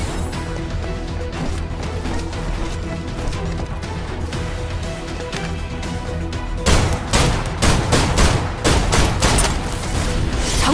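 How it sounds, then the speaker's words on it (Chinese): In the Snowbreak: Containment Zone video game, dense gunfire rattles into ammo crates behind a turret, a bright burst of rapid shots and impacts over constant game music and ambience, intensifying in the last few seconds. "射击弹药箱，把它从那个位置逼出来"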